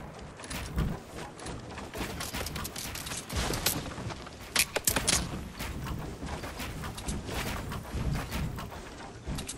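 Gunfire in a squads battle-royale shooter game, with sharp sniper shots and scattered bursts cracking over a busy, noisy background of game action and movement.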